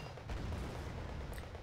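Dense battle noise from light riflemen firing on a T-72A tank in the real-time strategy game Wargame: Red Dragon, a continuous rumbling crackle of shots and impacts, steady and fairly loud with no talk.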